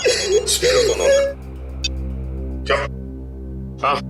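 A telephone rings in an Indian police crime-drama scene, heard as short, bright ring bursts repeating after a brief voice at the start, fairly close and clear over a low steady hum.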